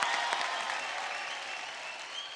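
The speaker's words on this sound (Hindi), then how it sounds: "एक बार जोरदार तालियां हो जाए।" Studio audience on the singing talent show Superstar Singer Season 3 gives a loud burst of applause, dense and even throughout, tapering slightly toward the end, with no voices over it.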